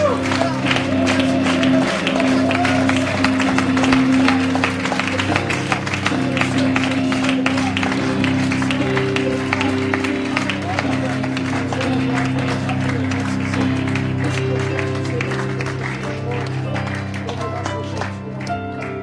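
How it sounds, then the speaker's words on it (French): Applause and cheering from a church gathering, a steady wash of clapping and crowd noise with sustained music tones underneath, staying loud and dense throughout before easing slightly near the end. "Acclamation, de joie"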